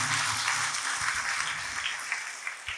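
A church audience applauds after a testimony, a steady dense clapping that keeps going for the whole stretch with no voice over it.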